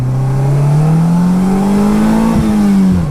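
A 2017 Polaris Slingshot SL engine droning loudly while riding, a close steady tone that rises slowly in pitch then drops sharply near the end as the revs fall.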